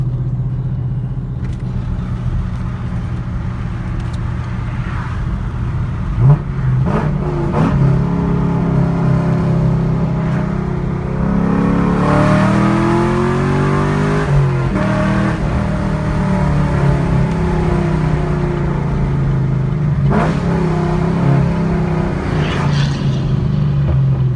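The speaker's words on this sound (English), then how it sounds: "Exhaust sounds great." A taxi fitted with longtube headers drives along with a deep, steady exhaust drone, then revs hard midway with rising, rasping pitch before settling back to a rumbling cruise, close and loud throughout.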